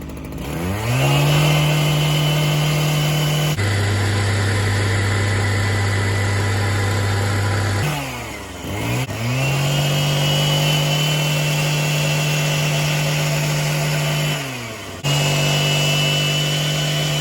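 A Husqvarna 122HD60 gas hedge trimmer's small two-stroke engine runs loud and close, holding a steady buzzing drone that revs up and drops back a few times.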